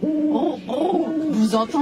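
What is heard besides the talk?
owl hooting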